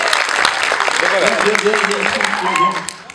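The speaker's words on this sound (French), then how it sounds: "J'aimerais qu'on applaudisse Nathan qui est venu faire un tour de magie tantôt" An audience applauds for Nathan, a child magician, at a live comedy show, with steady clapping running under overlapping voices and cheers before fading out at the end.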